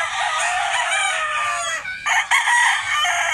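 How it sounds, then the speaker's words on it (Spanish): An eight-month-old jabao gamecock rooster crows loudly and close, one long strained crow broken by a short gap near the end. "Esa hermosura de gallo."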